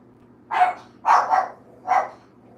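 Pet dog barking at neighbors walking past out front on a Saturday, three loud close barks, the middle one doubled, with no talk over them.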